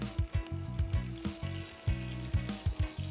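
Coconut milk poured into a pan of catfish adobo simmers and sizzles, with a steady bubbling hiss and intermittent low thumps of stirring or bubbling, close and alone.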